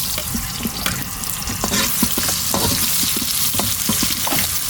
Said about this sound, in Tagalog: Mga karabas, start tayo magluto. Unahin natin ng sibuyas.